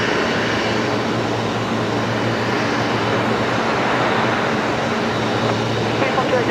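A plane at Brisbane Airport at night gives a steady, loud engine roar that stays broad and constant throughout, with a low hum running underneath.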